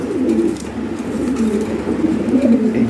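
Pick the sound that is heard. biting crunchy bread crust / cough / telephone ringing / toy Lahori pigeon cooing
toy Lahori pigeon cooing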